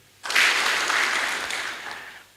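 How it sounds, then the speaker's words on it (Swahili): A crowd at a ward-level candidates' debate claps for a newly introduced candidate, a dense burst of applause that starts abruptly, holds steady for about two seconds and then tapers off. "Makofi."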